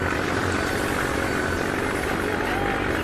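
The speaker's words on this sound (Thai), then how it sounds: "เสียงเครื่องคันนี้ก็โหดนิดนึงนะเครื่องก็จะใหญ่ขึ้นนะครับ" Six-wheel dump truck engine in Farming Simulator 19, a steady, loud, throbbing drone that holds evenly throughout.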